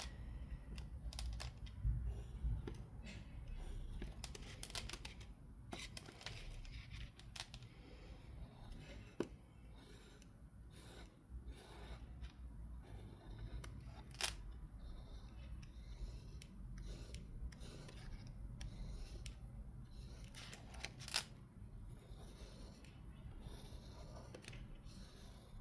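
A pen draws lines across a mixed media art journal page, giving a steady run of close, scratchy strokes and small ticks with no talking.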